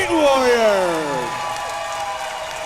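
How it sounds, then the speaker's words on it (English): An arena crowd at a super heavyweight fight event claps and cheers over an announcer's voice, the applause strong at first and slowly thinning. "a big round of applause for both of these super heavyweight warriors"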